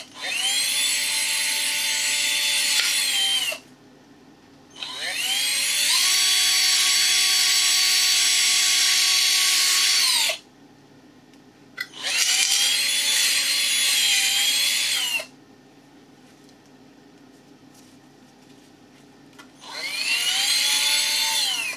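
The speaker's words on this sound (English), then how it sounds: "using a step drill, I'll be able to drill out" A step drill bores through a plastic tab on a Yamaha TDM 900 motorcycle fairing, whining loudly in four long bursts with pitch shifts as it bites, separated by near-silent pauses.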